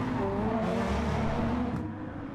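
Dodge Viper and Audi R8 race cars in a racing video game at Willow Springs, engines droning steadily and loudly with a sustained low roar throughout, no voices over it.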